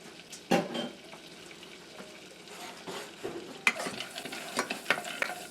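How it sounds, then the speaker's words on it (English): Butter, pistachio nuts and scallions drop into broth in a pan, giving a soft sizzle and stirring with a few sharp clinks of a utensil against the pan, close by and with no talk. "Now, I'm going to add these pistachio nuts in there, and the scallions, and this butter"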